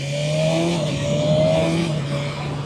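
A sport motorcycle with a quick shifter revs hard on the road, its engine tone holding high and then stepping through a quick gear change. Wind rush runs under the engine, and no one speaks.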